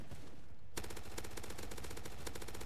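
Rapid automatic gunfire from the Roblox zombie shooter Zombie Uprising, a dense continuous burst of shots that starts abruptly after a brief quiet moment and stays loud to the end.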